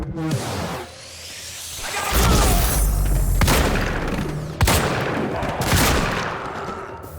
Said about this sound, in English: The shotgun pretty much cleans these guys out one shot, especially the unarmored ones.